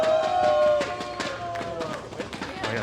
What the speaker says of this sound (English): Oh yeah, the crowd's feeling it.